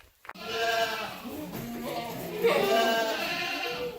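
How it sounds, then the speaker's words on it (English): Several goats bleat in overlapping, wavering calls, close by in a barn, one after another with a brief knock at the start. "now y'all should be able to see and also hear all the lovely goats"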